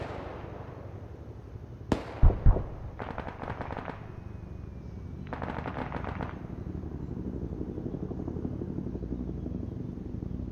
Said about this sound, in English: Wait, who's shooting on the 40?